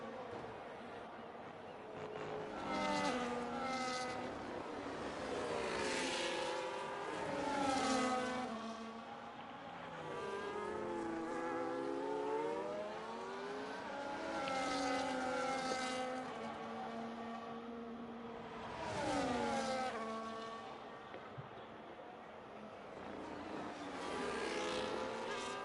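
F1 race cars from a racing video game scream through the Monaco street circuit, several engines whining up and down through the gears as they pass one after another in a continuous, overlapping roar.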